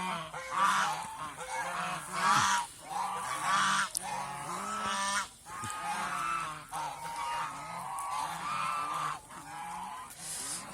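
A flock of domestic geese honks continuously, loud and close, with overlapping harsh calls throughout and brief dips in between.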